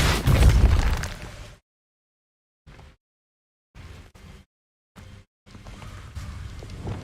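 Depulso and Incendio spell blasts in Hogwarts Legacy, one big booming blast followed by several short sharp pops separated by silence, then a longer crackling burst.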